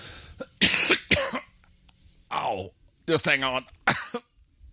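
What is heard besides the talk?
coughing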